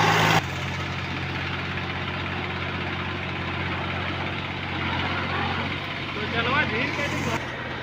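A tractor engine idles at close range, a steady low rumble with even pulsing that holds throughout after a brief louder burst at the very start.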